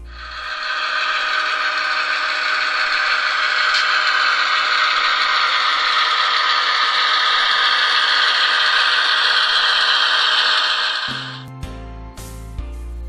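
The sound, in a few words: model GP38-2 road switcher locomotive running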